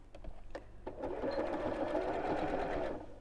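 A sewing machine on its free arm stitches a channel on a scallop-top gift bag, a steady close whirring run after a few soft handling clicks.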